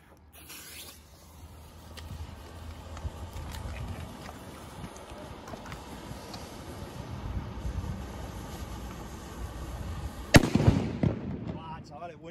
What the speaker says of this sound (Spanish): Petardos nuevos de este año.